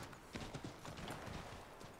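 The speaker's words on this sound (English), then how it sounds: "Let's just get on our horse." Horse hooves clip-clopping in Assassin's Creed 3, a steady quiet patter of hoofbeats running through the short stretch with no talking.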